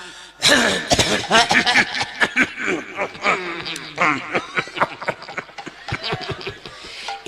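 A man gives a series of harsh coughs and throat-clearing hacks in quick succession, loud and close, with brief pauses between the bursts.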